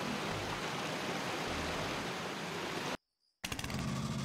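Rushing waterfall in the My Time At Portia video game, a steady broad wash of falling water for about three seconds that cuts out abruptly, then returns briefly.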